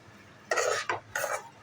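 Three quick scraping strokes of a utensil through gram flour roasting in ghee in a pan, close and dry, separated by brief pauses over a quiet background.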